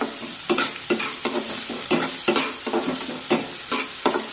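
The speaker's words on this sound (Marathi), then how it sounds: "हा कांदा हलका तांबूस रंगावर परतून घेऊया कांद्यासोबतच कढीपत्त्याची पाने टाकूया परतून घेऊया" Onion and curry leaves sautéing in a pan, a steady sizzle broken by regular scraping stirs of a spatula, close and clear with no voices.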